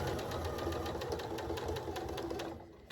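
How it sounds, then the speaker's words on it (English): Sewing machine back stitching a fabric face mask with a 1/4 inch presser foot, a steady fast mechanical whir and needle clatter running close and continuous, slowing at the end. "And now I'm just going to back stitch a little bit. I'm sewing 1/4 inch."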